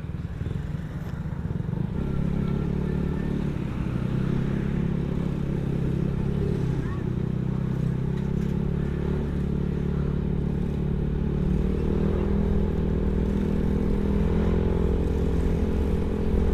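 A Yamaha Mio scooter climbs a hill, its engine holding a steady loud drone with a rising whir as it pulls, close by and continuous, with some rattle and road noise.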